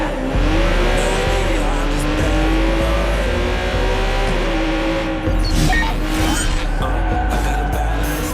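A car drives in the video game Watch Dogs 2, with a steady engine drone rising and falling, and tires squealing through turns, loud and continuous.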